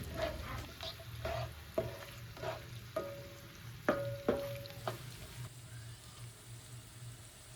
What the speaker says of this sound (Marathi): आता कांदा छान परतून घेतलेला आहे